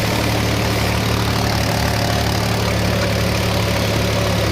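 A tractor engine labours uphill in third gear at about 1500 rpm, a loud, steady low drone with a heavy vibrating rumble that carries on unbroken throughout.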